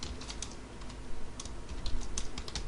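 Java code being typed on a computer keyboard: quick, irregular close key clicks in short bursts over a faint background hum.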